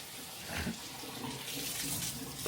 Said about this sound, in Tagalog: Naghugas po siya ng plato guys kasi kanya-kanya kaming hugas dito mga guys.